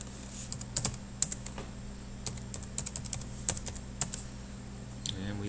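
Username and password being typed on a computer keyboard, a run of crisp, irregular key clicks in short bursts, close and fairly quiet against a faint steady hum, with no talking.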